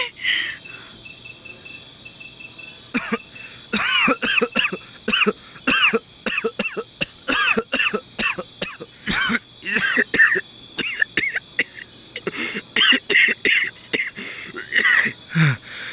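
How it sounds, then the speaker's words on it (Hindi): Repeated harsh coughing in irregular bursts, close and loud, over a constant high insect-like chirping background. "ये खांसी खत्म ही नहीं हो रही"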